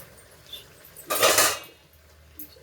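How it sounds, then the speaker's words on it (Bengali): A spoon stirs food in a cooking pot while making palang posto, one short burst of metal scraping against the pan, close and clear, between quiet moments. "ভালো করে এবার এটাকে ধরে নাড়াবো।"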